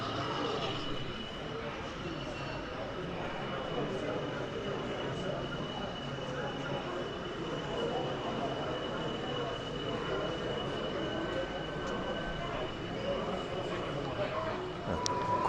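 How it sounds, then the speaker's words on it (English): A model railway locomotive runs past on a layout at a model railway exhibition, giving a steady rolling rumble with a faint high squeal and a constant hall background under murmured talk. "Another loco just coming through."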